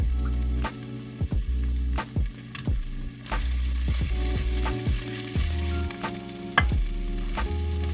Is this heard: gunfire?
no